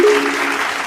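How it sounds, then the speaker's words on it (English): Hands clapping at a Dallas Cowboys training camp, a short loud burst of applause that fades slightly, with a voice briefly heard at the start. "let's clap it up for the homie, man"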